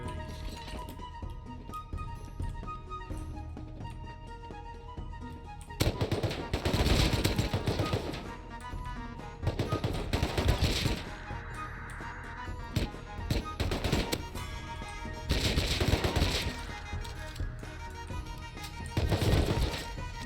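A Tommy gun in the game Rust fires in long rapid automatic bursts separated by short pauses, loud and close, with the weapon near breaking.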